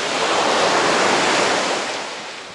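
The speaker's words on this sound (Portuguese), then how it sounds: "Esse barulhinho do mar é impagável." Sea waves washing onto the beach at Maresias, a loud continuous roar of surf that eases slightly toward the end, with no voices.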